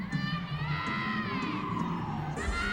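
A crowd at a Kent State versus Eastern Michigan college gymnastics meet cheers and whoops during a floor routine, with high shouts and rising yells over a steady roar, picking up again toward the end.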